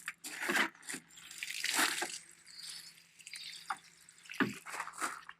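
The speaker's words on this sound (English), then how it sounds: "I then need to give it a good water." Water poured from a can onto compost in a small seed pot on a windowsill: soft irregular splashes and trickles that come in several bursts over a few seconds, close and fairly quiet.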